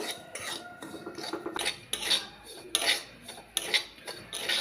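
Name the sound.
semolina being roasted and stirred in ghee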